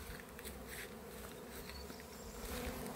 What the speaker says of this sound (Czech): Všechny včely z mini plusu je teda opravdu hodně.